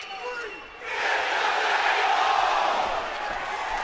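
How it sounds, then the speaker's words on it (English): A large wrestling crowd in Philadelphia at a TNA pay-per-view event roars steadily, swelling into loud, sustained cheering after a brief quieter moment. "And you can just feel Brother Ray and Brother Devon soaking up the adulation of this crowd in Philadelphia."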